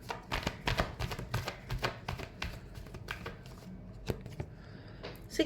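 Tarot cards being shuffled by hand in a last shuffle, a quick run of crisp riffling slaps and flutters in irregular bursts, close and fairly soft, with no talking.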